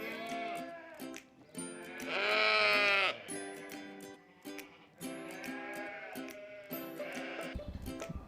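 Sheep and lambs bleating in a busy lambing shed holding a flock of breeding ewes, several overlapping calls close by, some long and loud, others short and higher, with brief pauses between.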